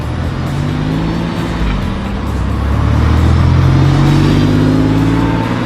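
Porsche 911 Carrera with a small rear wing driving past, a loud engine drone that swells as it comes closer and stays steady, with no voices.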